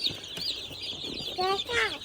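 Domestic chickens in a home flock cluck and call in a short, busy burst, with several overlapping rising calls near the mic and a child's and an adult's voices talking over them.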